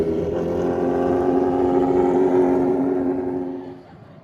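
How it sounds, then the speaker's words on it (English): A racing motorcycle at a drag strip at night makes a loud, steady engine drone that holds for several seconds, then fades out as it moves away. "Racing motorcycle."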